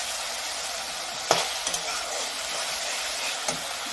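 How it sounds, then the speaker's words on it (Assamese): Spice masala for chicken curry fries in a pan with a steady broad hiss, a few sharp clinks and scrapes of a spoon stirring, close up with no talk. "মছলাটো ফ্ৰাই হৈছে, এইটো হৈ গ'ল ফ্ৰাই।"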